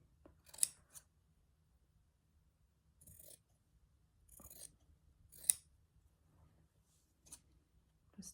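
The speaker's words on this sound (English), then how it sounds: "I need my fabric scissors" Several crisp fabric-scissor snips cutting fabric, spaced apart with quiet gaps between them, close and fairly faint.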